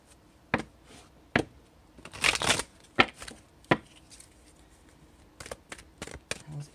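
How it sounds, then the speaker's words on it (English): Tarot cards are shuffled and tapped close up: sharp, quiet clacks at irregular intervals, one brief riffling burst, then a quick run of light taps, with no talk. "Shuffle one more time."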